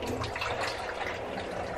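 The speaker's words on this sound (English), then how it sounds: "You hear that leftover water spinning around in here?" Leftover water sloshing and swirling inside a washing machine drum, a steady, close, continuous watery wash with no talk.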